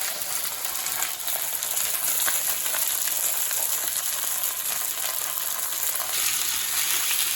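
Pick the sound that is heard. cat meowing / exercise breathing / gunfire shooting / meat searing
meat searing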